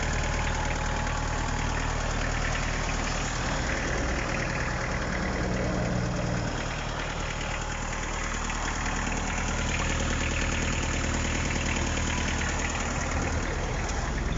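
A Mitsubishi MT306 tractor engine idles steadily on a very cold day with a low, rumbling knock, constant and close throughout, with no voices.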